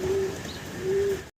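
A fancy pigeon coos softly at a pigeon dealer's, two drawn-out low coos separated by a short pause, quiet and close with faint background hum.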